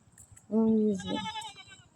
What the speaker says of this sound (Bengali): ছাগলের অভাব নেই দেখেন প্রচুর ছাগল এই যে ছাগল